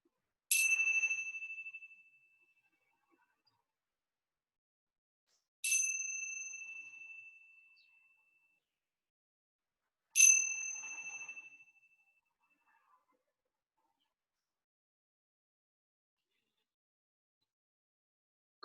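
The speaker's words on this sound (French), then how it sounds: "les trois sonneries de la petite cymbale qui marquent le début de ce moment de méditation assise." A small meditation cymbal is struck three times, each bright, clear ring decaying slowly into complete silence at the start of a seated meditation session.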